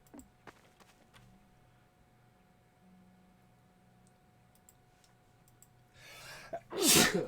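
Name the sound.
sneeze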